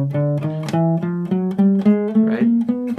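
A guitar plays a chromatic scale in a four-finger pattern, single notes climbing steadily in small pitch steps, each plucked note ringing briefly before the next, evenly paced and fairly loud.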